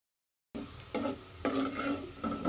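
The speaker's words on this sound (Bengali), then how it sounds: "পেঁয়াজ কুচি ভালোভাবে ভেজে নিব।" Chopped onions fry in fish-frying oil in a pot, a steady close sizzle that starts abruptly after a moment of silence, broken by a few scraping stirs, with no one talking.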